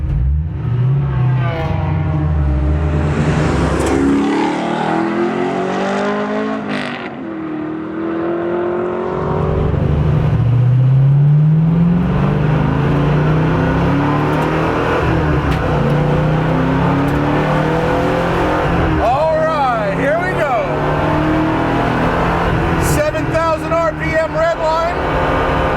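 A 2015 Chevrolet Camaro Z/28 race car with a stock powertrain runs on a track, its engine revving and shifting loudly up and down through the gears, with a voice talking over the engine throughout.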